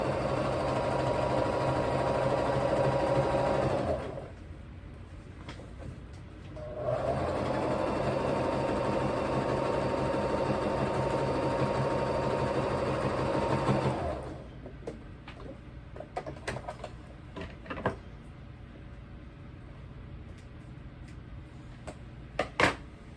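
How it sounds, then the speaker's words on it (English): Sewing machine stitching a straight seam with a zigzag over the top on an apron hem, running steadily in two long bursts with a pause between, then going quiet apart from scattered small clicks and handling noises. "I'm probably just going to do a straight stitch with a zigzag over top because it lays flat and it looks good."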